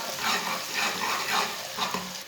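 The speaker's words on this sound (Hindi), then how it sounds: "प्याज को ना हल्का सा ब्राउन कर लेंगे। इसे ऐसे ही चम्मच चलाते हुए ब्राउन करना।" Chopped onion browning in a pan while a spoon stirs steadily, giving a continuous close sizzle with rhythmic scraping swells.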